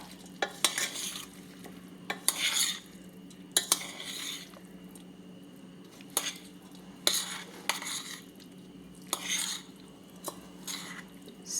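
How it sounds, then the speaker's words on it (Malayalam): A spoon stirs breadfruit curry in a pot for a simple vegetarian lunch, giving repeated scraping strokes in uneven bursts over a steady low hum, with no talk. "ഒരു നേരം അതങ്ങ് മൂടി വെച്ചാൽ ഇളക്കി കൂട്ടിയെടുക്കുക."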